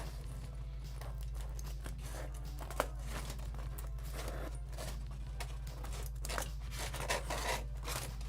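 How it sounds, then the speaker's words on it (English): Scissors cut around an edge to trim away excess material, making a steady run of close, crisp snips and crinkles with no talking. "just go around that edge real quick with your scissors"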